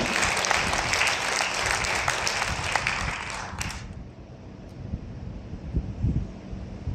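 A church congregation breaks into loud, steady applause that lasts a few seconds, then stops abruptly, leaving quiet room sound with faint low rumbles afterward.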